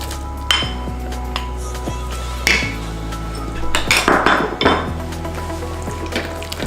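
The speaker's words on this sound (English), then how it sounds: "We're just gonna add the bacon that I cooked initially." Cooked bacon is added to a pot of corn chowder with a metal utensil, giving a few sharp clinks and scrapes against the pot at close range, with no talking.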